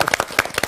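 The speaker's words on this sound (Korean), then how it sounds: "박수." Brief burst of audience applause at a church lecture event, a short spell of sharp, close hand claps from a small group.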